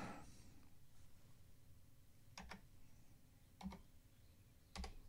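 A new computer keyboard gives a few sparse, soft key clicks, three small bursts spaced over several seconds, faint against a quiet room hiss.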